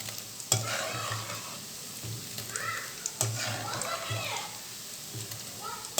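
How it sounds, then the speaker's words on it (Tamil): Boondi frying in oil for a special mixture snack, a continuous crackling sizzle with sharp stirring clinks and scrapes at intervals, heard at close range while a voice talks over it. "நல்லா மொறுமொறுன்னு வேகிற வரைக்கும் கொஞ்சம் நேரம் அடுப்பில் இருக்கட்டும்."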